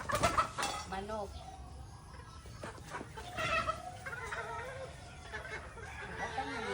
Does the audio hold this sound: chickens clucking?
yes